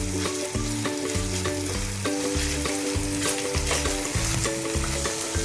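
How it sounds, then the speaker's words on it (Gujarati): Unsweetened mawa cooks in a pan for a dry fruit mawa roll, stirred continuously with a soft steady sizzle and scraping, under a backing of repetitive background music. "એને 5 મિનિટ સુધી મિક્સ કરીશું"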